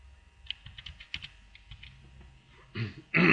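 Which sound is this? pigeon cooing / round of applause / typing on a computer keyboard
typing on a computer keyboard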